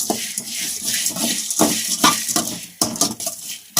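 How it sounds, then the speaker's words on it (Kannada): Spices for vangi bath powder dry-roasting in a pan over a low flame until golden, with steady scraping and stirring clatter of a spoon against the pan and faint sizzling throughout, no voices. "ಅದು ಗೋಲ್ಡನ್ ಕಲರ್ ಬರೋ ಗಂಟ ನೀಟಾಗಿ ಚೆನ್ನಾಗಿ ಫ್ರೈ ಆಗಬೇಕು"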